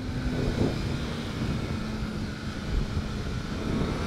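A 2022 BMW S1000R motorcycle engine under hard acceleration gives a loud, sustained roar with a steady droning tone, close up and without talk.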